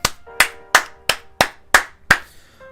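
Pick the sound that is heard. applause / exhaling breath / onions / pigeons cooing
applause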